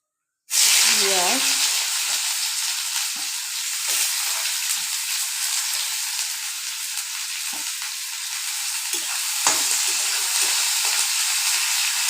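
Onions fry in hot oil with nigella seed and dried red chillies, a loud, steady sizzle and hiss starting abruptly and running throughout, with scattered stirring clinks and a voice speaking over it.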